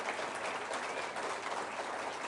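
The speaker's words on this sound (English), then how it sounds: "You can clap for that." A political party conference audience applauds steadily for a couple of seconds, a dense, even wash of clapping from a large hall crowd.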